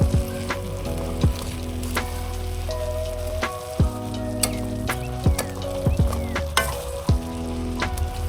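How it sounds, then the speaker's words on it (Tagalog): Fried tilapia stirred into a kaldereta sauce in a small wok, a loud steady frying sizzle broken by repeated metallic clanks and scrapes of the spatula against the pan. "Ihahalo-halo mo lang yung pinirito kong tilapia mo dyan sa paunang sauce"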